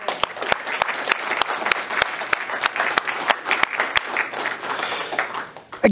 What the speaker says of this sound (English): join me in giving honor to the Lord by applause